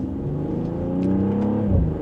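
A 2025 BMW X4 M40i SUV pulls from second gear in sport mode under mild acceleration. Its engine note hums steadily and swells slightly, close and continuous throughout.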